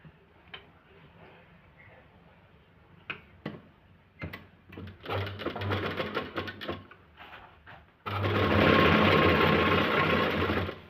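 Sewing machine stitching a 4-inch-wide cloth strip onto a blouse sleeve, running in short bursts at first, then a loud, steady whirring run near the end with no talk.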